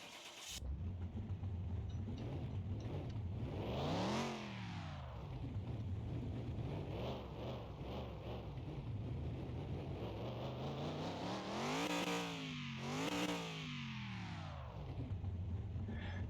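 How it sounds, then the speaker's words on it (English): A car engine cranks and fires up in Car Mechanic Simulator 2021, settling into a steady idle with two rising revs near the end, loud and continuous throughout. "let's just see if this will actually start the car now"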